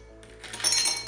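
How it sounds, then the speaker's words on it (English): Ice cubes drop into a glass with a short bright clink and rattle, close and alone, while iced coffee is being assembled. "Put some ice cube in the glass."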